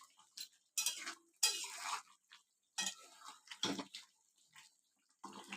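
Boiled chicken and potatoes are stirred with a spoon after garam masala is added, giving intermittent close scraping and wet clinking against the pot in short bursts with quiet gaps.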